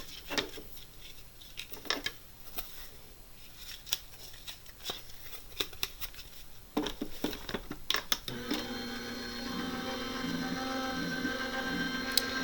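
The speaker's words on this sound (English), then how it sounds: "I'm just going to run this through my die cutting machine." A die cutting machine for paper crafting runs close by, with scattered sharp clicks and rattles giving way to a steady mechanical whir and hum in the last few seconds.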